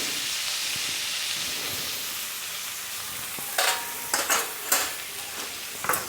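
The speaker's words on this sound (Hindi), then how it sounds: "तो पहले थोड़ी देर हम टमाटर को पका लेंगे।" Tomato pieces sizzle in a pan while an eggplant curry is cooked, a steady frying hiss running throughout with a few louder bursts of stirring clatter in the second half. No talking.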